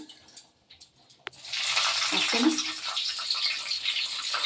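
Whole spices dropped into hot oil for tempering a vegetarian mung dal with potato and turnip; after a quiet moment with a few small knocks, a sudden loud, steady sizzle bursts up and keeps going.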